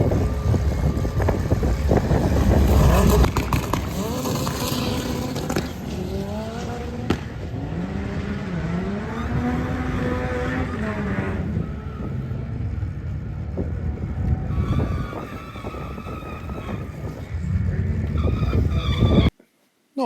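A Mk7 Volkswagen Golf R makes a drag racing run at Santa Pod, its engine loud and continuous through rising gear changes over roughly twenty seconds, then cutting off abruptly at the end.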